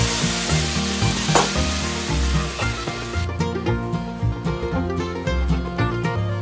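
Banana stem and shrimp ghonto sautés in a pan with chili powder, cumin powder and a splash of water, a continuous sizzle and stirring scrape running beneath prominent background music.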